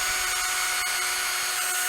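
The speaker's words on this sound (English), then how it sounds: "I'm going to drill a hole" A power drill bores a hole in the lid of a homemade plastic wasp and yellow jacket trap, giving a steady, fairly loud high whine with a brief catch near the middle.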